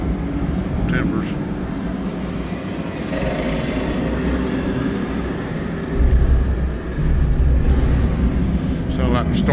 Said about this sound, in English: Sounds like a storm outside.